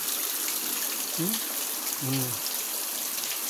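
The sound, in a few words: river water flowing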